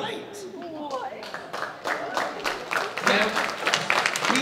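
An audience applauds at a New York Comic Con 2015 panel game show. The clapping is scattered and moderately loud, builds toward the end, and is mixed with voices talking over it.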